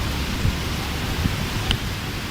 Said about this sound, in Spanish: estamos en la lluvia infernal, miren esto.